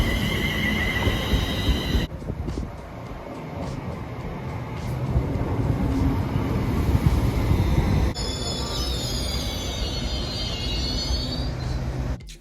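A UK passenger train rumbles steadily past at close range, its wheels squealing with high, sustained metallic screeches partway through over the heavy rolling noise.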